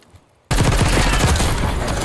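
An XM4 rifle in a video game bursts into rapid, loud, close automatic fire after a brief near-silent moment, then keeps firing steadily to the end.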